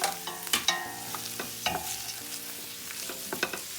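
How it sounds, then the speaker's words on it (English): Green onions and thyme are stirred into a pot of Guyanese red peas and dried shrimp cook-up, giving a run of scraping, clinking stirs with a soft simmering sizzle underneath, close and fairly quiet. "We're gonna mix now."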